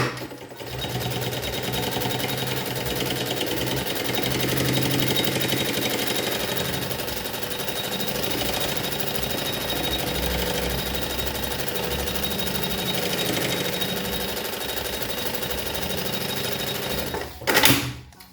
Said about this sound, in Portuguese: Eu vou colocar ó, o EVA em contato com as costas do bagum e vou passar uma costurinha de segurança.